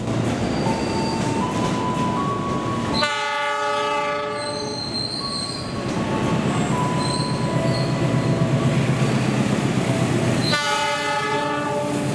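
A CC300 Indonesian-built locomotive hauls a train past a station, loud and close, with rolling wheels and carriages, repeated blasts of a tonal horn and high squealing wheels over a steady rumble.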